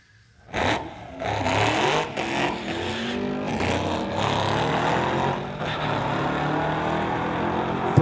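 Old and new street-legal Chevrolet Camaros, a 2010 and a 2018, launch side by side at a drag strip, engines roaring hard from a near-silent start and holding a loud, sustained revving drone as they pull away.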